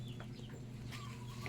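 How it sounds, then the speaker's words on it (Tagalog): A brooding mother hen of mixed breed on a farm clucking softly and intermittently, close but faint, over a low steady background hum. "Tapos, ayan yung inahin natin."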